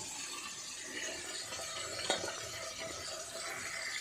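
Fish frying in a pan for a fish curry, a steady close sizzle with occasional stirring scrapes and clinks and no speech.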